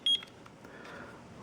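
A single short electronic beep from the mode button of an ST8020 alarm clock, followed by faint background noise.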